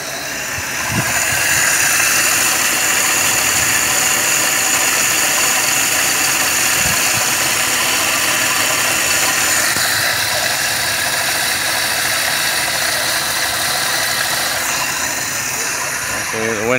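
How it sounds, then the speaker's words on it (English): Car engine idling steadily with a suspected bad alternator, a continuous close mechanical hum with a faint whine running throughout and a voice speaking over it. "Does that sound like a bad alternator?"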